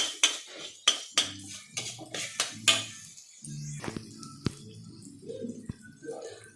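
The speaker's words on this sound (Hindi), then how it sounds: "और अब इसे थोड़ा सा मिक्स कर देती हूँ मैं।" Paneer bhurji masala being stirred in a pan, with a run of sharp spoon-on-pan clinks and taps at an irregular pace, followed by softer scraping and scattered knocks, all close and fairly quiet.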